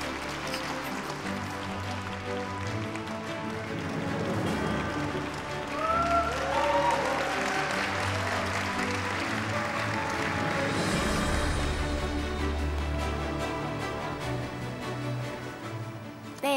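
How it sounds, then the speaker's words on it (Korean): A large audience at the 59th Daejong (Grand Bell) Film Awards ceremony claps for a presenter. The applause is dense and sustained, swelling slightly in the middle and filling the whole stretch. "박수로 맞이해 주시기 바랍니다."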